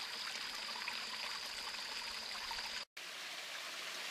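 Water running through a spring-fed irrigation channel, a steady outdoor stream with an even hiss that drops out briefly near the end, with no one talking.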